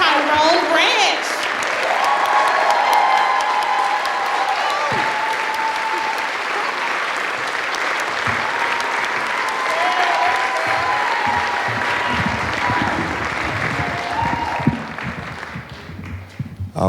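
Audience applause fills a story slam event, a loud, sustained wash of clapping from a crowd with cheering voices mixed in, thinning toward the end as a voice begins to speak.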